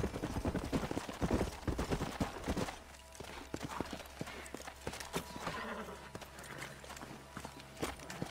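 Horse hooves clip-clopping in the video game Red Dead Redemption, a rapid run of hoofbeats slowing to a walk, with distant gunshots and brief talk.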